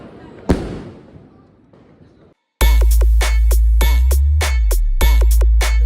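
Diwali firecrackers burst in a residential housing society: one sharp bang and fading crackle first, then after a brief silence a rapid, very loud string of close explosive cracks going off in quick succession.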